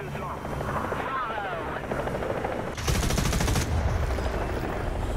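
Rapid machine-gun burst in War Thunder tearing into an enemy helicopter, a dense loud rattle of shots lasting under a second over the steady rotor drone and ongoing battle noise, with a player talking throughout.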